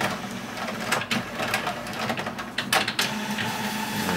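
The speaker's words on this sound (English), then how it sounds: "And then my printer should be going right there." Home printer running a job sent wirelessly from an iPhone on iOS 4.2, giving a steady mechanical whir with feed clunks and rattles throughout, close by and loud.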